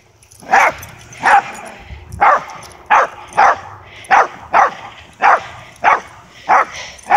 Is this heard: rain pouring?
no